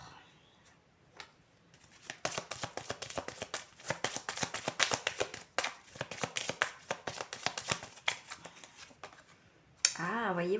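Tarot cards being drawn and shuffled by hand, a dense run of crisp riffling taps and slides after a quiet start, with a voice briefly speaking at the end.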